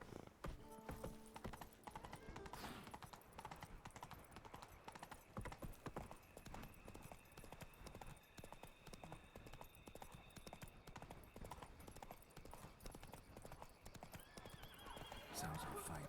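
Horse hooves clip-clop at a steady gallop in The Witcher 3: Wild Hunt – Blood and Wine, with an occasional neigh, layered over game music and ambience throughout.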